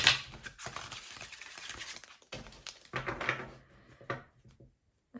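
A deck of tarot cards shuffled close by, quick riffling and tapping bursts with short gaps, ending in a stretch of quiet.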